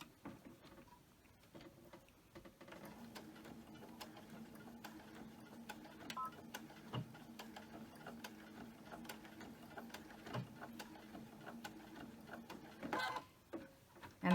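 A sewing machine stitching a fabric mask with wire along the edge, running in quick mechanical bursts with short pauses as it goes back and forth, close and fairly quiet.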